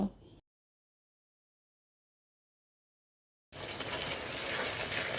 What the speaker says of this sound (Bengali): এবার আমি বেটে রাখা মশলাটা এর মধ্যে যোগ করে কষিয়ে নেব